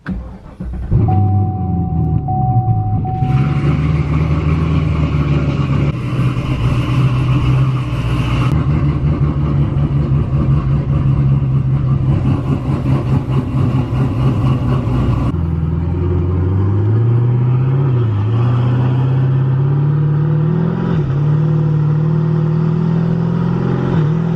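A Chevrolet Camaro ZL1 twin-turbo engine drones and revs from inside the car, its pitch climbing and dropping through gear changes over a steady low rumble.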